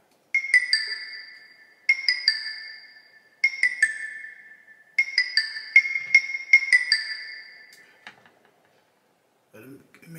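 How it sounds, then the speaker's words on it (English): Short bright bell-like synth tones in a homemade beat, sounding in repeated clusters of quick plinking notes with pauses between, fairly loud and alone, fading out near the end. "But it's like a little bell kind of sound."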